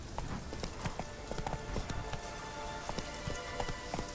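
Horse hooves gallop in The Witcher 3 with a quick, even clip-clop rhythm, the beats fairly faint and close together, with no voices over them.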